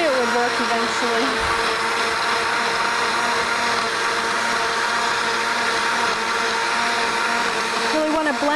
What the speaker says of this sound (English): Really want to blend that up good.